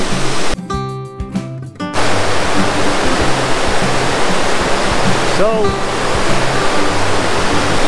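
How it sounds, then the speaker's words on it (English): Loud, constant rushing of the Ottawa River fills the scene, with a brief spoken word near the start. "Don't know if you guys can hear anything other than water."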